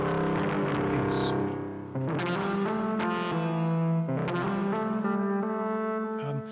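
Distorted synthesizer tones programmed on a Roland Zen-Core instrument using a wave shaper, sustained gritty notes with repeated attacks and effects, loud and steady, no talk over them.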